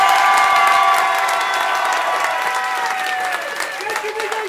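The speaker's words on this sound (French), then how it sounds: "applaudissez maintenant" Audience at an improv theatre show at a Paris improvisation festival claps loudly and continuously, with crowd cheers and shouting mixed into the dense applause throughout.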